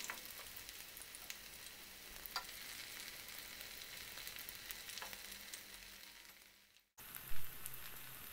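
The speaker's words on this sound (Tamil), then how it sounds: "ரெண்டு பக்கமும் நல்லா திருப்பி விட்டு ஃப்ரை பண்ணணும்" Mushrooms fry in a pan and are turned on both sides, giving a soft steady sizzle like light rain with occasional crackles, briefly cut off before resuming with a single knock.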